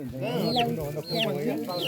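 Chickens cluck and squawk close by in repeated short bursts, with rising and falling calls about every half second.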